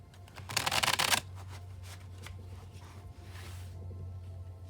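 Sacred Light Oracle cards are shuffled in a brisk riffling burst for about a second, close and crisp, followed by quieter handling over a steady low hum.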